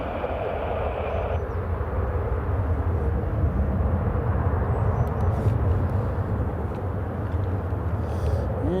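A KLM airliner taking off at Newcastle Airport, its jet engines a loud, continuous broadband roar that holds steady throughout.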